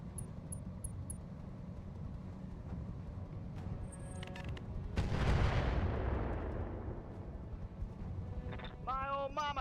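Mech weapons in the game Roguetech fire on a target, with a heavy blast at the midpoint that rolls off into a long rumbling decay over a low continuous engine drone, and a sharp burst near the end.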